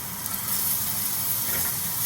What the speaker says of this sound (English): Let this fry for a little bit.